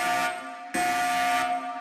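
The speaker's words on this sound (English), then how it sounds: "Apparently, I triggered the alarm at my grandparents' house." A house alarm set off by pulling a red bathroom rope in an animation blares as a loud, steady electronic buzzing tone in two long bursts with a brief break between them.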